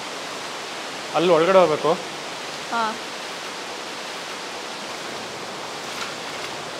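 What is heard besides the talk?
waterfall in Bali, water falling all around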